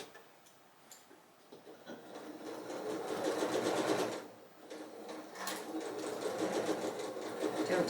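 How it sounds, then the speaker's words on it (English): A sewing machine stitches a star quilt block in quick, steady mechanical bursts that pause and restart, close by and moderately loud, with no talking. "Don't sew over your pin. Don't sew over your point."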